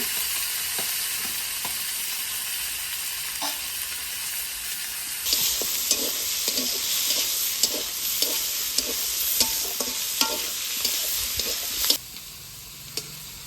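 Chopped onion and tomato dropped into a hot frying pan, a soft sizzle that jumps louder as the vegetables hit the oil, with repeated scraping stir strokes and clicks before it quiets.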